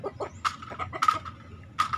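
A young village fighting rooster, a gamecock of the terah breed, gives a series of close, sharp clucks and short squawks in quick irregular bursts.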